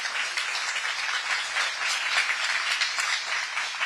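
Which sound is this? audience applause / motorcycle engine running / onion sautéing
audience applause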